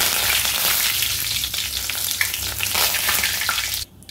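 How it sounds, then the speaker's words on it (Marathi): Mustard seeds and curry leaves sizzle loudly in hot oil for a Maharashtrian chili bhaji, a steady dense crackle, close and continuous, that cuts off abruptly near the end. "इथे मी अर्धा चमचा मोहरी आणि कढीपत्ता टाकून घेणार आहे"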